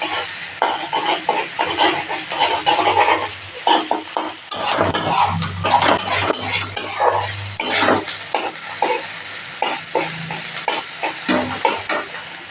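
Prawn paste with salt, turmeric and chili powder is stir-fried in a pan: a steady sizzle under repeated scraping and clinking of a spatula against metal, close and busy.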